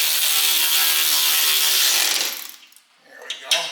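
A hand ratchet tightening a replacement bottom bolt on a front shock of a 1975 Monte Carlo, a rapid steady clicking close up for about two seconds, then a few scattered metallic clanks as the work stops.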